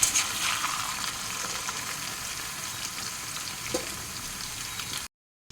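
Cut eggplant pieces cook in a hot pan, giving a continuous close crackling sizzle with faint stirring, steady throughout before cutting off abruptly, no voices.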